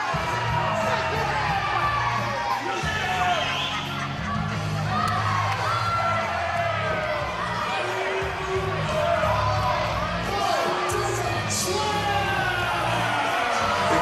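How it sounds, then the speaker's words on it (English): A capacity crowd at a ringside wrestling show roars steadily throughout, with cheering, whoops and shouting voices, including children's, blending into dense, continuous noise at close range. "Capacity crowd here at Ocoee tonight."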